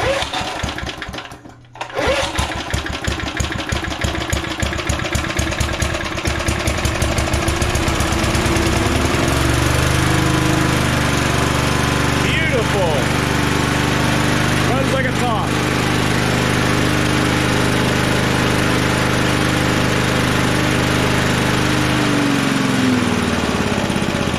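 A vintage heirloom lawn mower engine sputters to life after a brief catch, then runs in a steady, loud, rattling drone close by, with a voice now and then.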